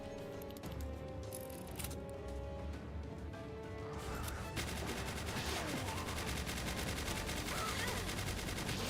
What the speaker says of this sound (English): It's their superior defense turret, by the way. Casually dodging the bullets.